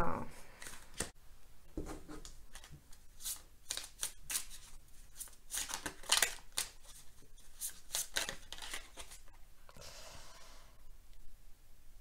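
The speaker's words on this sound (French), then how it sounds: "je bats les cartes et je prends uniquement celles qui sautent" Tarot cards are shuffled by hand close up, with quiet rapid riffling and flicking clicks in irregular bursts, a few sharper snaps, then a soft sliding rustle near the end.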